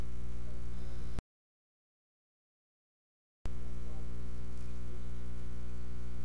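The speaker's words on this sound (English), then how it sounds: "Bowl cutter operation." A Univex BC18 bowl cutter runs with a steady, close electric motor hum, breaking off into about two seconds of silence before the same even drone resumes.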